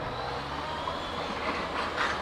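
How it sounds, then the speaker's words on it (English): A tram runs along the Blackpool seafront promenade, giving a steady, fairly loud rumble of wheels on rail that holds for a couple of seconds with no talking over it. "Tram."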